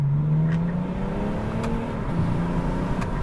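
BMW car accelerating hard with a steady rising engine drone that climbs smoothly in pitch, loud and close, from inside the car.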